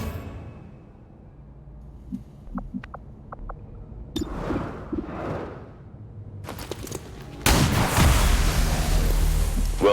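A frag grenade goes off in XCOM 2: a few quiet clicks and soft whooshes lead into a loud, sustained blast roar that carries on to the end.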